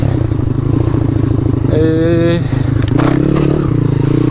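A motorcycle running on its original Lifan 125 engine, a steady loud idle with rhythmic mechanical clatter and a brief rising rev in the middle, close by.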